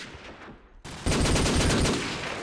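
Gunfire in the Call of Duty 4 video game, said to come from a Desert Eagle pistol: a quiet lead-in, then a sudden loud burst of shots that stays dense and sustained to the end.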